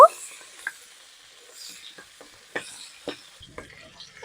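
Black cumin, bay leaves, slit green chili and crushed garlic fry lightly in oil, with a soft sizzle and a few sharp stirring scrapes and taps scattered across a quiet background.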